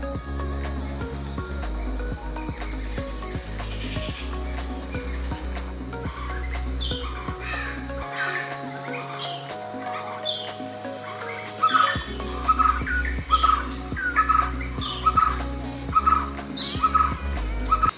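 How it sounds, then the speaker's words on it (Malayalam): Small birds chirp and tweet in short repeated calls around a home over a steady tonal musical background, moderately loud throughout. "എന്ന് വെച്ചാൽ കിളികളിൽ ഒരുപാട് സൗണ്ട് കേൾക്കാം"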